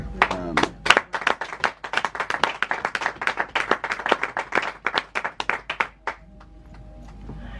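A church congregation claps together in a fast, steady rhythm for about six seconds, a dense burst of many hands nearby, then the clapping stops abruptly into quiet.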